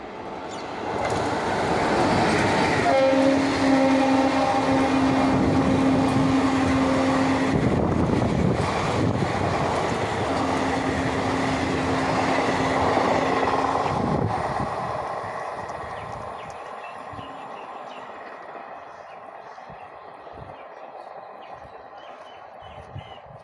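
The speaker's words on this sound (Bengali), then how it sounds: "এখন ট্রেন আসতে দেখবো চলো দেখো একটা বড় ট্রেন আসছে" A large train pulls into a nearly empty station in Hooghly, West Bengal, a loud sustained rumble and wheel clatter with tonal squeals, lasting about fifteen seconds before fading to quiet platform ambience.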